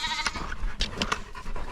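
Farm sheep bleating in short, overlapping calls from a small flock, fairly close and loud, with no talk.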